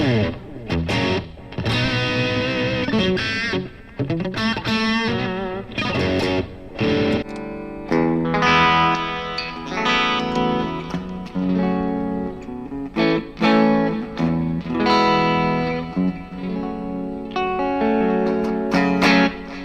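Overdriven electric guitar playing chords and riffs through the gritty combo drive effect of a Flamma FX150 multi-effects unit, continuous and loud with some reverb.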